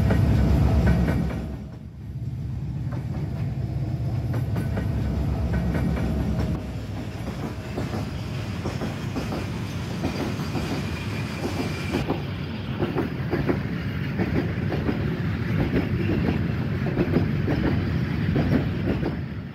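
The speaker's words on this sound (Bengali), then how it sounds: "আর এখন ফেরার সময় একটা ট্রেন যাচ্ছে" A train rumbles past on the tracks near a rail crossing in Sitakunda, a steady heavy roar with rhythmic clattering wheels that holds loud throughout, no voices.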